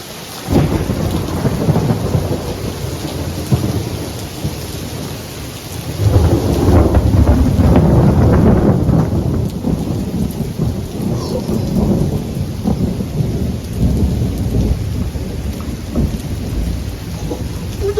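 Loud thunderstorm with heavy steady rain and repeated rolling thunder, including a strong close rumble swelling partway through, with no voices.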